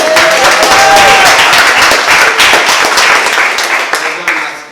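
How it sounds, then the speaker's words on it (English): A crowd at a business seminar in New York claps loudly and close, a dense round of applause that gradually thins out toward the end with a few scattered individual claps. "Let's give him another round of applause."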